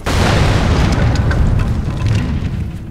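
A mine going off in the action-adventure game Lara Croft and the Guardian of Light: a loud, sustained rumbling boom that fills the clip with dense low-end roar before slowly tapering, with no talk over it.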